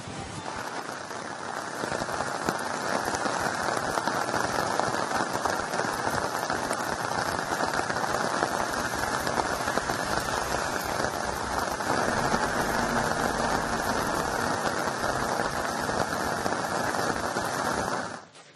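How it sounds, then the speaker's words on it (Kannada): Heavy monsoon rain pours down in Dakshina Kannada, a dense, loud, continuous hiss of drops pattering on surfaces that holds steady before fading at the end. "ದಕ್ಷಿಣ ಕನ್ನಡ ಜಿಲ್ಲೆಯಾದ್ಯಂತ ಭಾರಿ ಮಳೆ ಆಗ್ತಾ ಇದೆ"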